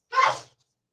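A single short sneeze, close and fairly loud, bursting out and fading within half a second, followed by silence.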